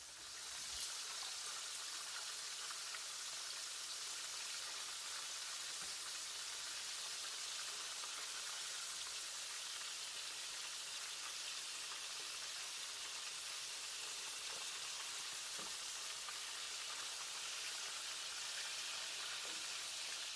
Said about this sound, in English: add all of my steak fingers carefully into the hot oil